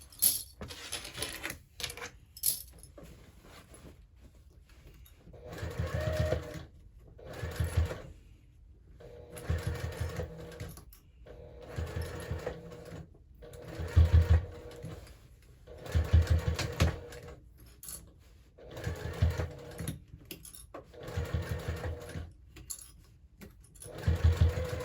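Sewing machine stitching the top of a canvas hobo bag, running in repeated short bursts with pauses between, close and moderately loud, with light handling clicks and no speech.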